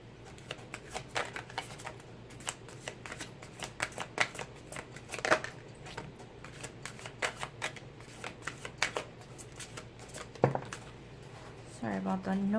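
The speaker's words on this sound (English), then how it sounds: "Sorry about the noise. My dog is drinking some water." A dog drinks water with quick wet lapping clicks repeating in an irregular rhythm, close by, with a few louder splashy licks breaking through the steady patter.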